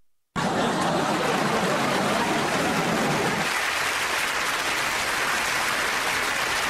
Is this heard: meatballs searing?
no